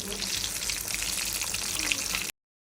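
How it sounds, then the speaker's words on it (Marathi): Coated chicken tikki for a crispy burger frying in hot oil, a steady dense sizzle that holds at even loudness throughout before cutting off abruptly. "टिक्कीला चांगलं कोट करून फ्राय करायचंय"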